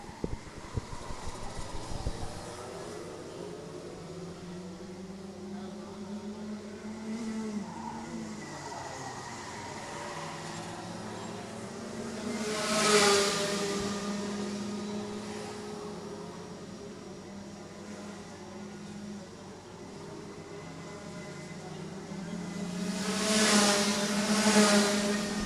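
Rotax Max racing karts at a national karting championship run in a pack with overtaking, engines droning steadily in the middle distance, with two louder swells as karts pass closer.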